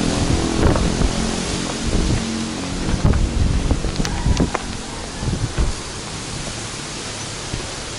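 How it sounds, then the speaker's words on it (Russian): Steady soft hiss of light rain in Bali with scattered louder taps and rustles, continuous and fairly close, no voices. "дождик небольшой."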